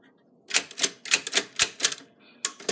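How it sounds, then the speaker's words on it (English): Manual typewriter keys strike in a quick, uneven run of about a dozen sharp clacks, close and clear, with a brief pause and a small bell-like ping before the typing resumes. "I used this typewriter a lot"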